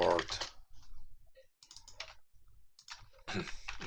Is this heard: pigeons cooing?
no